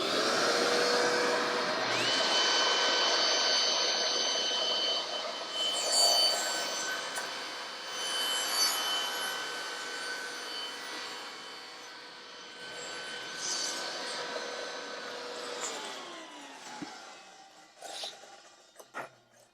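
A power saw trims a piece of wood for a cross cut sled, its steady whining roar running close and loud for most of the stretch before the blade winds down near the end, with a few small knocks afterward.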